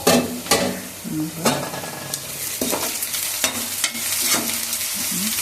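Onions for an arbi (taro root) curry frying in a pan, stirred with repeated scraping strokes over a steady close sizzle, no voices.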